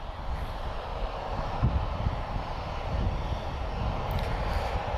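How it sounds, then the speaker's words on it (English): A Nordica airliner departing Lisbon Airport produces a steady, moderately loud engine roar with a deep low rumble, heard from some distance and continuous throughout. "We've just timed it for the Nordica departure now, guys."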